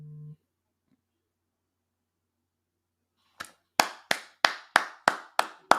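Crisp applause from a sound effect, a run of about eight sharp, evenly spaced claps following a short voice and near silence.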